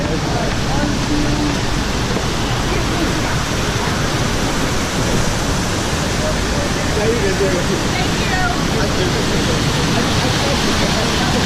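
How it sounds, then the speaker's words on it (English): Steady broadband rush of river water flowing along the San Antonio River Walk near the Alamo, continuous and fairly loud with no breaks throughout. "River water."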